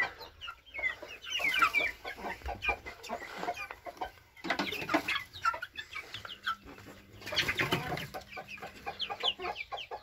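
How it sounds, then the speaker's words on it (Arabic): Chickens and young chicks of a mixed breed cluck steadily and busily at feeding time in a backyard coop, with overlapping calls near and far and no voices. "وهنايا عاوتاني عندنا الكتاكيت ديال الخليط"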